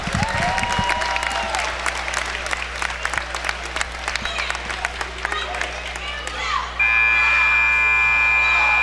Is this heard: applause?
yes